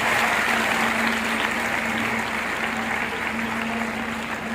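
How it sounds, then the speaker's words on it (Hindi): Schoolchildren and guests at a National Space Day event in India give loud, continuous applause that fills the room evenly for several seconds, with a faint steady hum underneath. "जोरदार तालियां उनके लिए बजाइएगा"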